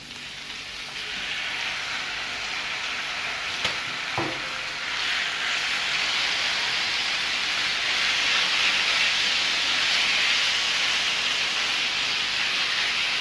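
Chicken pieces frying on a hot tawa give a steady, loud sizzle and hiss that carries on unbroken from start to finish, with a brief clatter of utensils near the middle.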